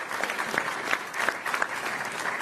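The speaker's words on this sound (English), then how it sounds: "Give all of them a round of applause" Applause from a town hall audience in Philadelphia, a moderate, steady patter of many hands clapping at once, evenly sustained throughout.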